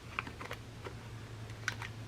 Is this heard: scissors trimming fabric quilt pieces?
yes